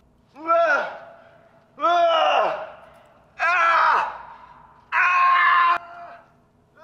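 Czech climber letting out four long, strained screams of effort on a hard 9b+ sport route, each cry a sustained loud yell separated by short pauses, close and alone.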